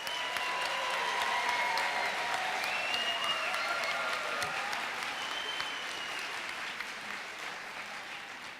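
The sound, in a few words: audience applause for volunteers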